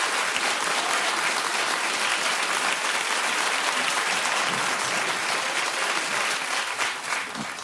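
Studio audience at a daytime talk show breaks into loud, continuous applause, a thick wash of many hands clapping that holds steady for several seconds with no talk over it.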